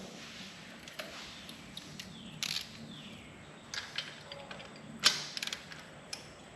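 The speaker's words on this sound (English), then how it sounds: "As you tighten these, you can feel that crush washer going down." Spark plugs being tightened by hand into an engine head, giving faint mechanical clicks and creaks of the wrench, with a sharper metallic click near the end, all quiet with no talk.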